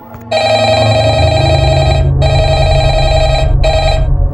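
An old-style telephone bell in a Minecraft Five Nights at Freddy's game rings loudly and close, in three long bursts separated by brief gaps, over a low droning background.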